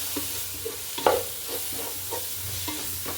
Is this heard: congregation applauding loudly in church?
no